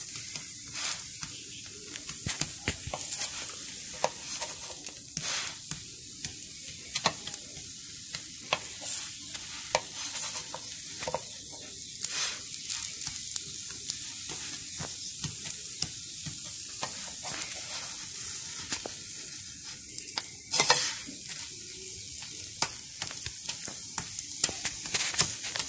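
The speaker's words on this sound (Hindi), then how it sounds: "दूसरे साइड से भी डोसे पक गए हैं, अब मैं इसको फोल्ड कर लेती हूँ।" Sooji dosa sizzling on a hot pan as it is folded, a soft steady hiss and crackle dotted with scattered taps and scrapes of a spatula, close-up and without speech.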